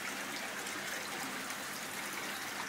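Steady, even water flow in an aquaponics growing system, pumped through hoses, a continuous close hiss and trickle with no pauses and no voices.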